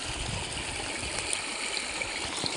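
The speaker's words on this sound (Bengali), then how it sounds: "মেঘালয়ের কুল ঘেঁষে আসা এই ঝর্ণা" A hill stream running down from Meghalaya, a steady soft rush and trickle of water, fairly faint and continuous with no voices.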